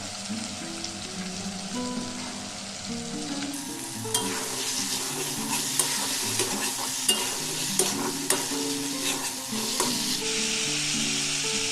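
Unfried potatoes being sautéed in a spice masala for an egg and brinjal curry, with a continuous loud sizzle and repeated sharp stirring clicks and scrapes of a spatula in the pan, no talk.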